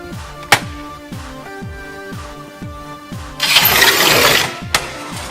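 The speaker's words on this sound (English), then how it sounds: "lift the breaker lever until you can see and hear the rod entering the first slot of the mechanism. You should then hear a single snap." A Rubi TZ manual tile cutter's breaker lever and rod click repeatedly into the mechanism's slots, sharp mechanical snaps with one louder crack, close by, then a brief rushing scrape.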